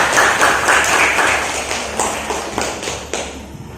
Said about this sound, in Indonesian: Kasih aplaus buat